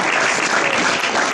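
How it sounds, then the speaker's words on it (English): A banquet crowd gives a round of applause for senior basketball players, a brief, loud, continuous wash of many hands clapping at once. "If we give them one more round of applause"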